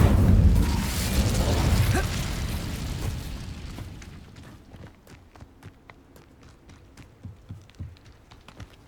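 Incendio fire spell cast in Hogwarts Legacy, a loud fiery whoosh and rumble that fades over a few seconds, followed by quieter footsteps and small clicks.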